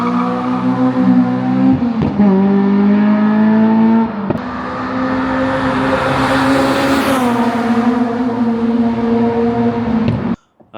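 A Honda Civic EM1 coupe with a swapped 2.4-litre K24 engine revs hard nearby, a loud sustained roar whose pitch rises and dips through gear changes, then cuts off abruptly near the end.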